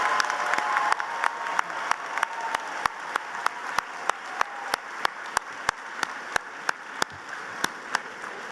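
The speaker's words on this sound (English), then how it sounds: "I think we need to give a round of applause to the great Josh Blakely for" A graduation commencement audience in a hall claps steadily, a broad wash of applause with a regular, sharp tick or knock recurring about every third of a second.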